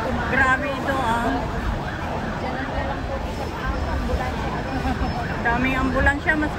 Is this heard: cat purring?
no